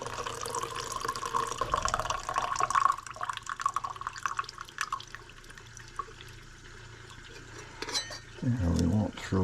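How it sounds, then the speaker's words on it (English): Labrador tea liquid is strained, with trickling and dripping of liquid through the leaves, loud at first and then fading, mixed with handling noise and a burst of pouring near the end. "Labrador tea. Just strain that back a little bit."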